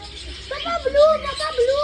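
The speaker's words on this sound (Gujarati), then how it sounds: "બધા અલગ અલગ પ્રકારના પોપટ છે આની અંદર" Several parrots of different kinds give shrill, whistling calls with wavering tones, close by, over a steady background hum, at a science park's bird area.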